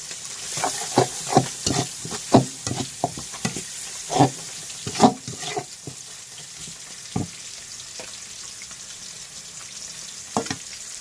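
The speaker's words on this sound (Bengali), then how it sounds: "এখানে মাছের জন্য মশলাগুলো কষিয়ে নিতেছি" A spice paste of onion, tomato, garlic, turmeric, chili powder and green chilies fries for fish, with a soft sizzle under a run of scraping stirs that come fast at first, then thin out to occasional strokes.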